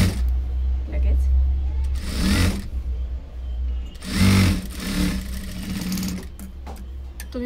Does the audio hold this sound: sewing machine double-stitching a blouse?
yes